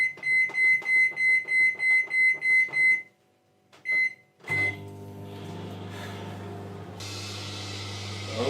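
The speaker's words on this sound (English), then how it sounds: "Simply pop it in a cappuccino cup, and it goes in the microwave." A microwave oven heating an apple in a cappuccino cup: a rhythmic series of about nine beeps, then a brief pause, then the steady hum of the oven running with a low drone.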